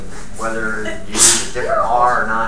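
A single sharp sneeze bursts out once during a lecture on moments and couples, cutting briefly through the lecturer's steady talking.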